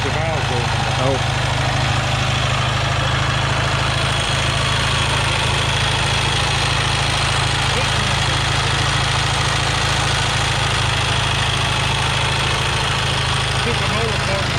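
A 1920 antique motorcycle engine runs steadily at idle with exposed valves working, a continuous close, loud mechanical drone with ticking, at an antique motorcycle meet.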